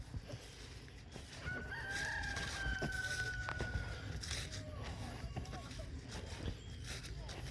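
Chickens inside a chicken house on a small farm cluck and chatter continuously, with a rooster-like crow cutting through, fairly faint and close, with people talking over them.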